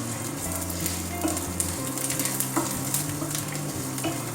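Garlic frying in ghee as a tempering for a black nightshade greens and dal dish: a dense, close sizzle with intermittent spatula stirs and light scrapes against the pan, steady throughout and free of talk.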